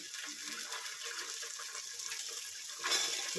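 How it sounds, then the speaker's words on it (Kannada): Beans being washed with water, a steady broadband wash of running and sloshing water that holds evenly and swells slightly near the end, close and moderately loud with no talk. "ಒಂದು ಎರಡು ಸಲ ಚೆನ್ನಾಗಿ ತೊಳ್ಕೊಳ್ಳಿ"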